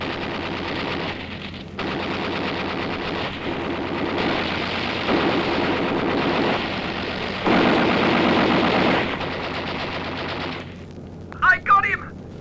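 Aircraft tail guns firing in a radio drama: loud, sustained machine-gun bursts in several long rattling volleys with brief pauses, over an engine drone, ending with a short sharp flare.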